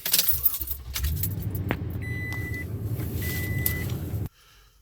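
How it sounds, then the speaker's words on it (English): Keys jangle, then a Toyota Tundra fitted with a new AFE cold air intake cold-starts. It settles into a low, rumbling idle with two soft electronic chimes before the sound cuts off abruptly. "here goes your cold start new air intake for the first time"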